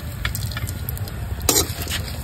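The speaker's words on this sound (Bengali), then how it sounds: "এই তেলে আমি কটা শুকনো লঙ্কা ভেজে নেব।" Dried red chillies frying in hot oil in a village kitchen, the oil already used for frying prawns; a steady close sizzle with scattered sharp crackles and one louder spitting pop.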